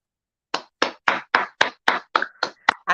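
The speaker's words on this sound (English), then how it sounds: "Let's clap." Ten sharp, evenly spaced hand claps from a single nearby person on a morning show, each crisp and distinct with brief gaps between, starting after a short silence.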